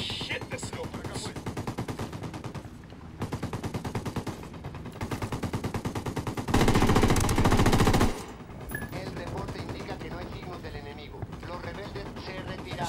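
Automatic weapon fire in Ghost Recon Wildlands, sustained rapid bursts clattering across most of the stretch, with a louder dense volley near the middle; a player talks over the shooting.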